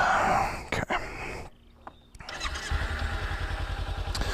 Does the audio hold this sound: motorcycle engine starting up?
yes